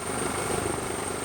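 Steady helicopter rotor and engine drone from inside a cabin during an emergency medical flight, a constant mid-level hum with a thin high whine, no voices.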